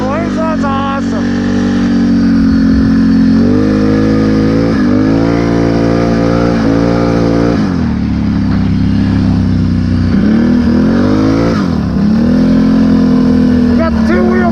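A Can-Am off-road vehicle's engine revs hard while riding through deep snow powder, loud and continuous up close, its pitch climbing and dropping repeatedly as the throttle swells and eases.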